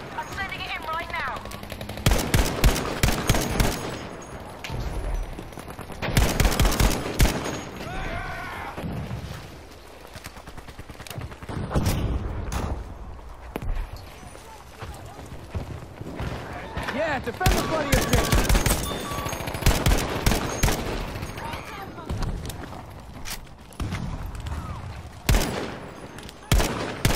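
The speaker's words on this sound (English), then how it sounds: "We need an artillery barrage." Heavy gunfire and artillery explosions in Battlefield V come in repeated loud bursts and rolling booms across a busy battlefield, with voices heard at moments.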